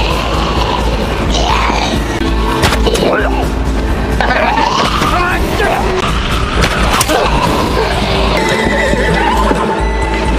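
A horse surrounded by zombies neighs and whinnies repeatedly amid hoof clatter, thuds and chaotic shouting, all loud and dense throughout.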